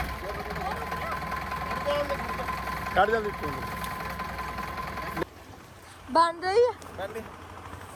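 A tractor engine runs at a steady, low idle on the way to a cowshed, a continuous drone beneath nearby voices that talk over it in two short stretches.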